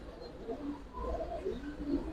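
Giribaz flying pigeons at a pigeon farm coo softly in low, overlapping murmurs, a steady close-up flock sound with no talking.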